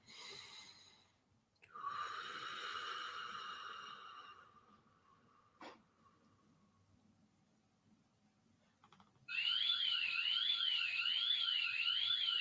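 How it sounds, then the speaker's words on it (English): A house alarm goes off in a home, a loud warbling electronic siren that rises and falls steadily near the end, after quieter breathy noises, with no talk over it. "Did the dog trigger the alarm?"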